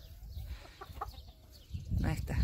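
A hen clucks softly in short bursts, growing a bit louder toward the end, with faint rustling around it.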